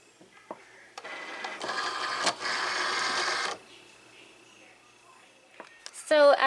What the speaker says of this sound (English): then you're going to load the mat into the Cricut